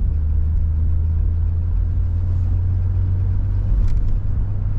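A 1983 Lincoln Continental Mark VI with 41,871 miles runs at a steady idle, its low engine rumble close and even throughout, with a faint brief tick near the end and no one talking.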